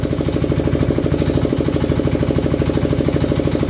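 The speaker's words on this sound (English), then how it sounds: "you don't want to listen to that compressor" Air compressor running steadily during cleaning of a Lister diesel engine, a loud, close, rhythmic pulsing drone that holds constant without talk.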